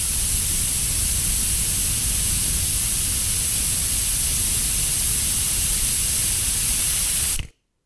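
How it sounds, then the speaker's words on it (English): A spray paint can hisses in one loud, steady, continuous burst for several seconds, then cuts off abruptly to silence. "Comes, the spraying begins."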